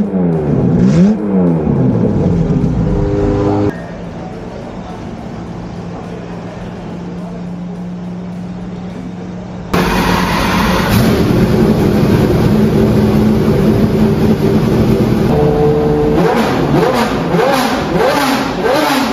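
Minardi racing car engine started in the paddock at Minardi Day 2023, loud sharp revving bursts that drop to a lower idle, then surge again with repeated high-pitched throttle blips close by.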